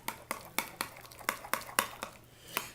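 A utensil stirs black pepper into spring onion pesto in a bowl, giving about ten sharp, quiet clinks and taps at an uneven, quick rhythm, close up and alone.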